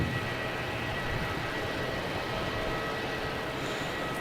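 QJet airliner departing Melbourne Airport at night bound for Canberra, producing a continuous low engine rumble and broad jet roar that holds steady and even, fairly loud, with no one speaking.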